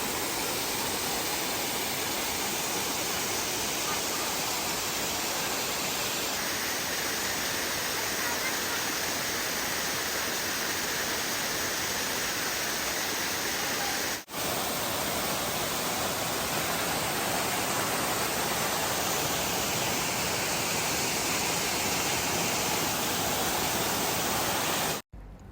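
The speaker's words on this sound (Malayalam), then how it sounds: "ആ വെള്ളച്ചാട്ടത്തിൻ്റെ സൗണ്ടൊക്കെ നമ്മൾ കേട്ടു തുടങ്ങി." Iruppu Waterfalls in Karnataka, reached on a forest trek from the Wayanad border, gives a constant dense roar of rushing water, loud and unbroken throughout, with a brief dropout near the middle.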